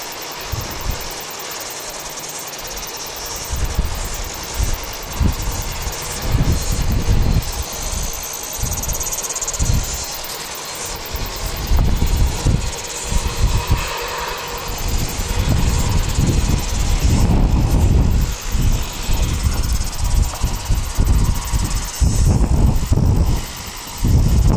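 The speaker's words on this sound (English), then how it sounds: "We've got an A320neo from Brisbane." An Airbus A320neo arriving from Brisbane rumbles at Wellington Airport. The jet engine roar is steady and moderately distant, with wind buffeting and insect chirps underneath.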